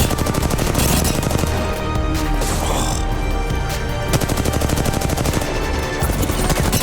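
Rapid bursts of automatic gunfire from the Fortnite battle royale game fill the stretch, loud and nearly continuous, with crashing impacts layered in and brief gaps between volleys.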